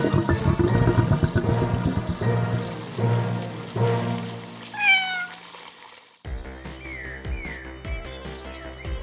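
A cat meows several times amid splashing, flushing water and busy toy-play sounds, fairly loud and close, with a few rising cries standing out.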